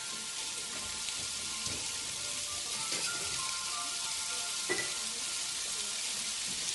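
Butter sizzles in a hot cast iron skillet at the start of a roux for bacon mac and cheese, a steady broadband frying hiss with faint crackles and a few sharper pops, no voices.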